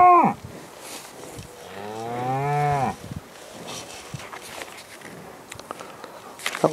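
A cow mooing on a farm with two-year-old heifers nearby: one long, loud moo follows a short opening call, then quieter shuffling and rustling noises.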